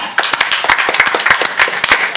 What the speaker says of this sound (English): we got to give Mr. Eddie Hearns and Matchroom a round of applause for tonight